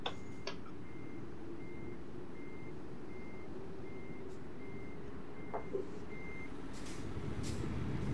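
A truck in a convoy trucking video game backs up with a steady, evenly spaced reversing beep over a low, constant engine rumble, with a few faint ticks and clicks scattered through.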